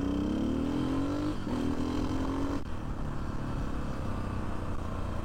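A 1992 Yamaha XT 600 motorcycle with a LeoVince X3 exhaust and an open airbox revs steadily, its engine note rising twice, with the intake roar louder than the quiet exhaust, close and continuous throughout.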